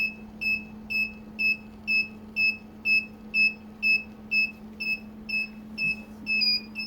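A rosin press timer's high electronic beep repeats in a steady rhythm, about two per second, over a constant low hum, close and fairly loud.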